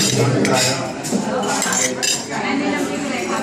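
A spoon clinks repeatedly against dishes at a Chiang Mai garden-house lunch of curry, the sharp metallic taps and scrapes coming close and irregular.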